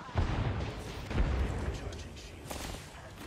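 A grenade explodes in the video game Apex Legends, with a few booming blasts and scattered gunfire heard at moderate level within a busy battle mix.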